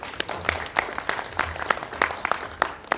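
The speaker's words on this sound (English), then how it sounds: "I would like to ask everyone to give a very big applause to everyone that is here" Applause from an audience at welcome speeches for an event in Genting Highlands, with many hands clapping in a steady ongoing patter and a few louder, sharper claps standing out nearby.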